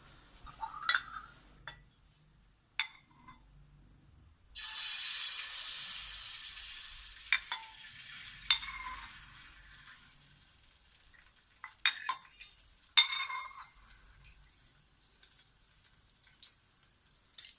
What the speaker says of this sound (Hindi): इसमें मैं अब 2 या 3 कप के बराबर जो है वो दही डालने लगी हूँ।